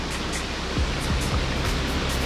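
The Yerköprü waterfall in Mersin roars as a loud continuous broadband rush of falling water, close and unbroken, with a few low thumps partway through.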